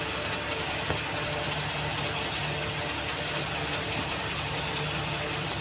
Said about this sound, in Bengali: আমার জলটা ফুটে গেছে